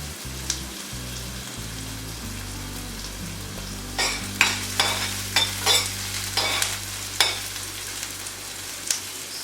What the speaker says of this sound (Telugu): సో ఇప్పుడు ఆయిల్ హీట్ ఎక్కిందండి. సో ఇప్పుడు ఇందులోకి మనము ఆనియన్స్ వేసుకుంటున్నాం ఫస్ట్.